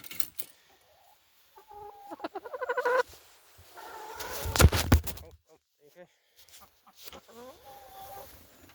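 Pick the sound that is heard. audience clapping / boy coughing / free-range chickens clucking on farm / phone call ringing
free-range chickens clucking on farm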